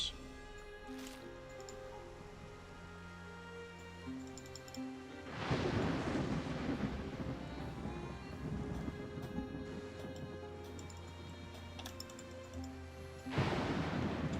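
A thunderstorm in the video game Wartales rolls in with a long rumbling crash of thunder mid-clip and another surge near the end, over a faint background of rain and ambient game sound.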